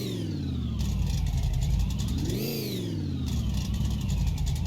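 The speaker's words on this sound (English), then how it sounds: "let's go ahead and give it a few revs here." A custom all-chrome car engine idles with a deep rumble in neutral, then revs up once and drops back down, loud and close, with a slight whistle.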